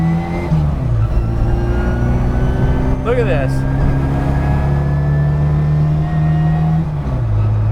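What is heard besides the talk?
supercharged Mini Cooper 1310cc engine revving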